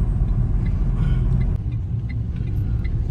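A car creeps at low speed up a foggy, drizzly mountain road to Narkanda in Himachal, its interior engine and road rumble deep and steady, dipping slightly midway, with no voices.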